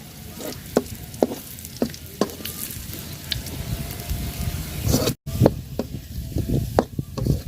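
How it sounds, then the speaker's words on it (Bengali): Onion, garlic and four dried red chillies frying lightly in a pan for beef kala bhuna, a steady sizzle broken by repeated sharp clicks and scrapes of stirring, with no talk. "পেঁয়াজ রসুন শুকনা মরিচটা হালকা ভাজা নিছি শুকনা মরিচ আমি হালকা ভাজি"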